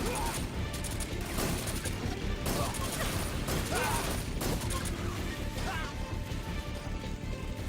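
Enemies being shot in a video game: rapid bursts of gunfire and crashing impacts packed densely together, loud and continuous, with someone talking underneath.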